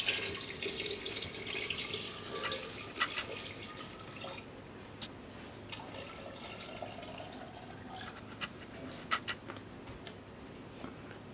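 Water, 1.5 quarts, pours into a container for storing eggs, a steady trickling splash with drips and clinks, fairly faint and close by, with no talk.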